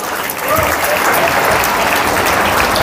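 A church congregation claps together in steady, dense applause that fills the room loudly and evenly throughout, with no break in the sound.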